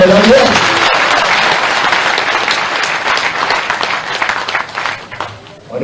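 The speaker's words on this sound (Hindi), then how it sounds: "मेरी बात से सहमत है तो जोरदार तालियां बजाइए" Loud, sustained applause from a large audience at a political rally at a party office in Bhopal, dense clapping filling the whole stretch and easing slightly toward the end.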